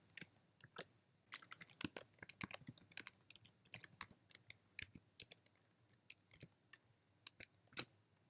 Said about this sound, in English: I'm going to type my password for DockerHub.